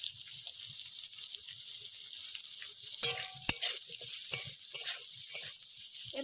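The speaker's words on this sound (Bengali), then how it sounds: "এবার ভালো করে ভেজে নেব" Kholse fish and sweet pumpkin stems sizzle steadily in a frying pan, with an even hiss. Stirring scrapes and a few sharp utensil clinks break through partway.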